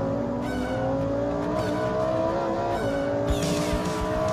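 A Lamborghini Huracan Performante's engine revs hard and climbs steadily through acceleration, a loud continuous roar with rising pitch and a brief shift near the end, heard alone without talk.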